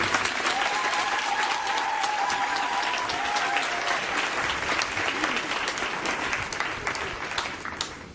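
Steady, loud applause from an audience at a tenth-anniversary celebration of a Catholic charity community in Côte d'Ivoire, sustained clapping without pause that thins slightly toward the end.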